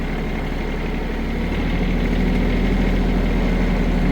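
A tractor engine runs loud and close while it hauls firewood on its bucket. The low, throbbing drone holds steady and builds slightly as it moves off.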